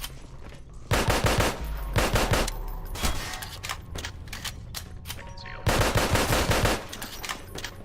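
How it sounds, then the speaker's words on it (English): Gunfire aimed at Combine soldiers in a Half-Life mod video game, rapid shots cracking in clustered bursts with louder volleys near the start and again later, and no voices. "Taking him out with a pistol because I'm not using a fucking sniper rifle"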